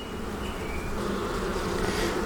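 Honey bees buzz inside a nuc box as it is transferred into a walkaway split. A soft, continuous droning hum holds steady at low volume with no voices.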